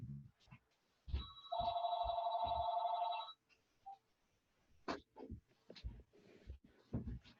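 A mobile phone rings during a lecture, one steady electronic tone lasting about two seconds, fairly quiet, followed by scattered faint knocks and rustling.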